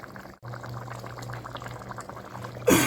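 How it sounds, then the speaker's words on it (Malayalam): Boiled and cut boti meat pieces bubbling in masala in a pan, a steady close simmering burble that ends with a louder burst of sizzle. "ഞാനിതാ നമ്മളെ മസാലയിലേക്ക് ആഡ് ചെയ്തിട്ട് ഒന്ന് തിളപ്പിക്കുന്നുണ്ട്"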